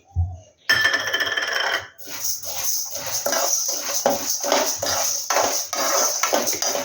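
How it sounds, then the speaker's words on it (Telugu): Half a cup of dry moong dal poured into a frying pan while making sambar, giving a loud rattling patter of lentils hitting metal after a brief clatter, then a steady sizzling hiss. "ఇప్పుడు ఇందులో నేను 1/2 కప్పు పెసరపప్పు వేసుకుంటున్నా."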